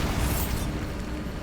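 A Bombarda blast spell exploding in the Hogwarts Legacy game, a loud close roaring burst with a bright crackling tail that fades quickly into a lingering rumble.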